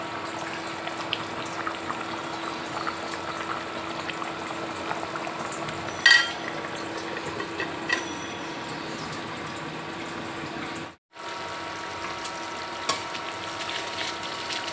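Beef bhuna simmering gently in a covered pot over low heat, giving a steady soft bubbling and sizzling hiss throughout, with one brief clink partway through.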